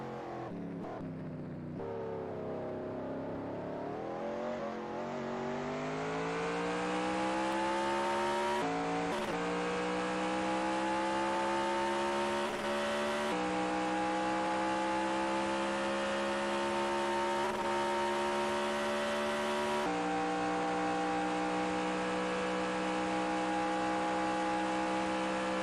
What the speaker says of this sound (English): as these cars make their